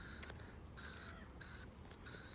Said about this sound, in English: Also known as bug spray.